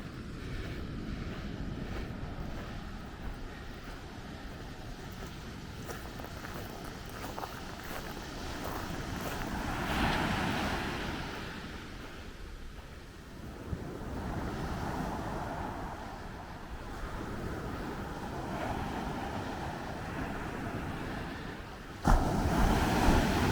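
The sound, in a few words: waves at a quiet Florida beach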